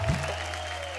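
Applause from a dance show's studio audience, a steady wash of clapping right after a performance that holds for about a second.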